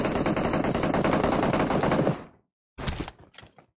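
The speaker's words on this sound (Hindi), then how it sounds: "सामने ही गोली चला रहा था।" A long, loud burst of rapid automatic gunfire in the video game PUBG Mobile stops abruptly, then after a brief silence two shorter bursts of shots follow.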